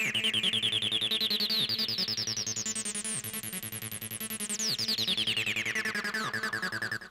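Roland TB-03 bass synthesizer, the silver unit, playing a fast, steady acid sequence of repeating sixteenth notes, the filter sweeping bright then closing back down over the pattern, loud and close with no talk.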